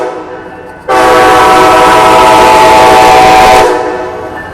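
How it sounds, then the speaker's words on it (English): A loud, sustained multi-tone horn blast from Amtrak Coast Starlight train #14 street running through Oakland's Jack London Square, close and steady for about three seconds before trailing off. "Once again, Cold Starlight 14 with the horn show."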